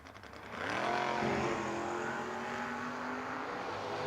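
A Chevy II drag race car launches and accelerates hard at a drag strip, its engine roar rising quickly and then holding loud and steady, close by with no voices.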